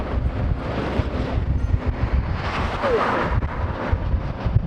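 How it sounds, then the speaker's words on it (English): Strong wind gusts across the open Arabian Desert in hot conditions, buffeting the microphone with a loud, rumbling roar that swells and eases throughout. "The heat and wind really picked up as I headed towards the finish."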